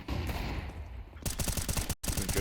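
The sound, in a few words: pistol gunfire in Counter-Strike video game, Inferno map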